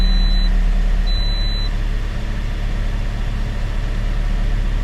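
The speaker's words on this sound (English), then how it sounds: "So I'm going to start up the engine," A 2018 Toyota Corolla SE engine idles just after an oil change, a steady low rumble close by with a constant drone and no talk, holding level throughout.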